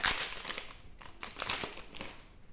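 Pokémon booster pack wrappers from a Korean Team Rocket bundle crinkle and crackle as they are torn open, a steady run of dry plastic rustling close to the microphone with no talking.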